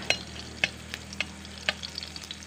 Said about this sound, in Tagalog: Bawang, sibuyas, at kamatis. Igisa na natin sila lahat.